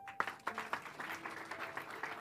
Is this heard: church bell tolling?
no